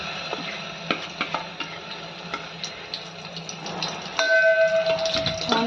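Onion, ginger, garlic and cashew paste roasting in oil in a pan for a spicy chicken curry, with steady close sizzling, scattered stirring clicks and scrapes, and a louder hiss toward the end.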